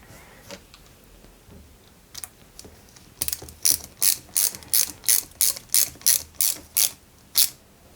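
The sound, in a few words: screwing in a new screw while assembling a model car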